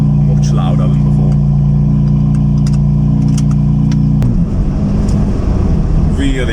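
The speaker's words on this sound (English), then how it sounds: "Really like the sound, much better with this exhaust mod done." A BMW M4 with an exhaust valve mod idles loudly and steadily up close, then the engine note shifts into a rougher, rising rev for the last couple of seconds.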